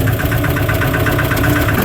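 A diesel engine on a restored old concrete mixer runs steadily and loudly at idle, a constant close rumble with an even throb and no voices.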